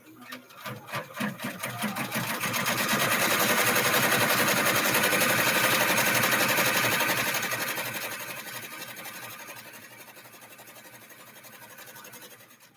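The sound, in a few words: embroidery machine stitching out a bag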